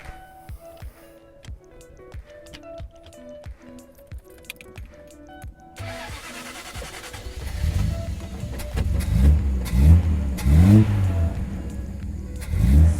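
An Austin-Healey 3000 MK1 starts up: light mechanical clicking and ticking come first, then the engine catches and gives several loud, deep revs in quick bursts close by.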